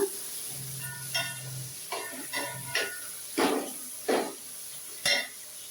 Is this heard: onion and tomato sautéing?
yes